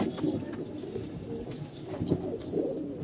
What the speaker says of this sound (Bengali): ওই আমাদের একটা মাদি কবুতর দেখছেন